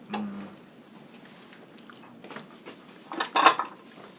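Dishes and plates clink and rattle as a Korean after-party dinner with sashimi is shared around the table, light scattered clatter building to a louder burst of ceramic knocks near the end, with no talk over it.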